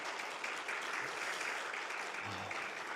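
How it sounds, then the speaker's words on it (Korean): A church congregation claps steadily to welcome the pastor's wife during a Sunday worship service, a soft, continuous patter of many hands with no one speaking. "우리 한번 사모님 박수로 환영하도록 하겠습니다"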